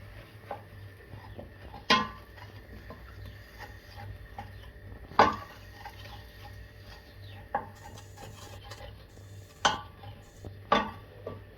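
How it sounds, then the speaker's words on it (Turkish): Flour being stirred and toasted in melted fat in a pan for a lasagna sauce, with soft scraping and rubbing punctuated by several sharp utensil knocks against the pan, fairly quiet and without talk. "İçine unu ilave ediyorum. Ve bunu biraz undan, unu yağla beraber kavuruyorum."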